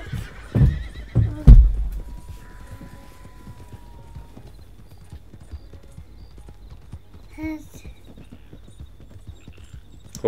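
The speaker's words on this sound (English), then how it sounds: "There's a horse." A horse in Red Dead Redemption 2 lets out a loud, close neigh and snorts at the start, then quieter hoof clops and a second brief whinny follow, with faint background sounds.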